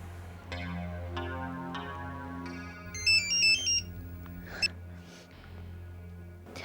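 A mobile phone ringtone plays a steady, repeating melodic tune through a tense television drama scene, with a brighter chiming flourish partway through and no talking over it.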